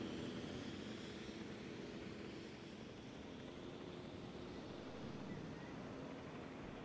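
A helicopter sets down in a dinosaur video game, its rotor and engine making a steady, loud, wind-like roar that fills the whole stretch without pause.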